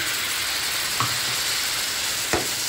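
Spice-rinse water from the grinder bowl poured into masala frying in a pan for makha pabda fish, giving a steady sizzle with a couple of brief louder bursts of hiss as the liquid hits.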